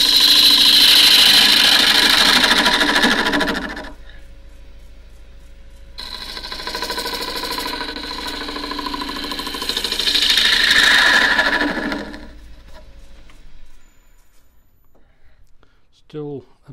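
A wood lathe turns a square wooden dish, with bursts of whirring, hissing cutting noise as the gouge meets the spinning corners. Two main stretches of cutting are split by a pause, then it winds down to near quiet.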